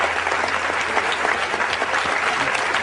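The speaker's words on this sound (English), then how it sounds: "You know why I applauded?" Dense, steady applause from a large audience at a lecture event, continuous clapping at full volume with no speech over it.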